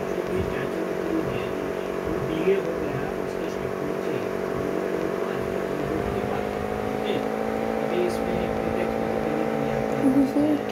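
A motorbike engine in the Roblox game Brookhaven RP hums at a steady idle with a constant droning tone throughout, loud and close, while voices chatter over it.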